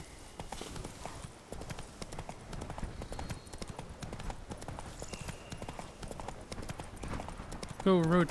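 A horse gallops in The Witcher 3 on PS4, its hooves clip-clopping in a quick, steady rhythm at moderate volume. A voice speaks over the hoofbeats, and a brief whinny-like sound comes near the end.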